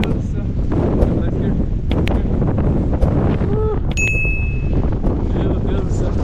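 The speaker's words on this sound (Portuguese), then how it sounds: "Quando eu falei que tava vento, ó, vocês não acreditaram?" Strong wind on a mountain trail buffets the microphone in a continuous loud roar with gusty rumble, while a faint tone and a brief ring are also heard.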